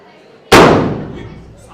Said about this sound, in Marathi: केवढं जास्त गॅस भरेल तेवढं स्फोट होत आहे